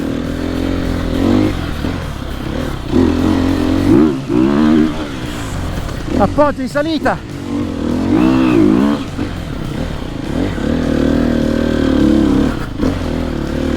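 A 2020 Sherco 300 four-stroke enduro motorcycle climbs uphill, its engine droning loud and close with rising and falling revs and a brief sharp throttle burst midway; someone talks briefly over it.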